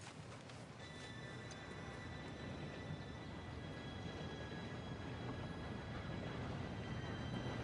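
Train approaching in Red Dead Redemption 2, a broad low rumble that swells steadily louder, with faint high metallic whine lines running through it and no voices.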